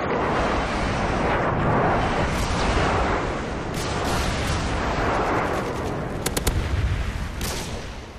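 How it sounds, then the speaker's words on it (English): Friendly airstrike in a Modern Warfare 2 Domination match on the Quarry map. A dense, continuous roar of rumbling explosions and booms fills the clip, with a few sharp cracks of gunfire near the end. "Airstrike standing by. Friendly airstrike inbound."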